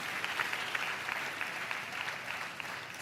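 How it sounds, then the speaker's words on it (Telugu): An audience at a sermon claps together in a dense, continuous burst of applause, fairly loud and steady. "చప్పట్లు కొట్టండి"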